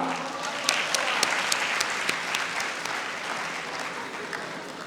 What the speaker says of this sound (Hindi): आपकी भरपूर तालियों में जनाब नासिर सियाल